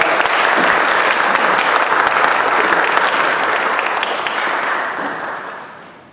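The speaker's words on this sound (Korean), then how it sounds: "여러분 큰 감사의 박수 한번 보내주셨으면 좋겠습니다" Loud, sustained applause from a large church congregation at a Sunday service, steady clapping that gradually fades toward the end.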